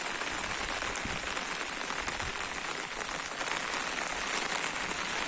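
Rain keeps falling outdoors, a shower that began minutes earlier with runoff flowing in nearby canals, as an even, broadband wash of drops with slight low rumbles; steady throughout and free of talk.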